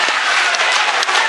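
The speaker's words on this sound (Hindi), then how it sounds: "एक बार दोनों हाथ उठाकर जोरदार तालियों से इस्तकबाल कीजिए शेर का।" Loud, dense applause from an audience at a Hindi kavi sammelan poetry recital, a continuous close roar of many hands clapping without a break.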